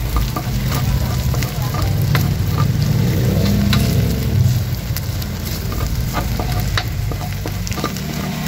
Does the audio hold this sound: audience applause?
no